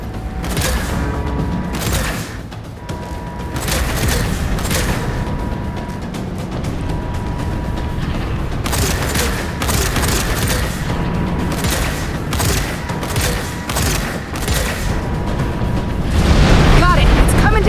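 A bridge blown up and collapsing in the Gears of War 5 video game gives sustained heavy rumbling and booming with repeated crashing bursts, loud and continuous, swelling at the end.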